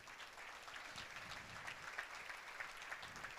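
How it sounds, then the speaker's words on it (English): A banquet audience claps in a steady, moderately distant wash of applause that carries on evenly throughout, with no voices over it. "So yeah, you can clap for Jesus."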